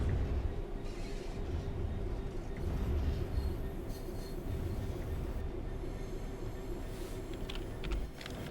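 A rail head treatment train pulls out of a yard in the Train Sim World 3 game, a steady rumbling roll with low engine hum and faint wheel squeal, continuous throughout at even loudness.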